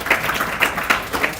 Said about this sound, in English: I want to give a applause to all the communities